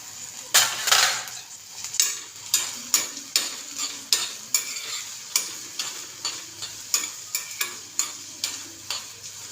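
Onions and tomatoes fry with asafoetida, chillies and spices in a pan for pasta, a loud steady sizzle broken by about twenty rhythmic scrapes and stirs of a spoon against the pan.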